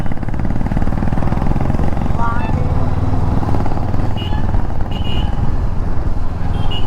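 Motorcycles ride along a coastal road in Karnataka between Gokarna and Sagara, a steady loud engine drone with passing traffic throughout and no clear talk.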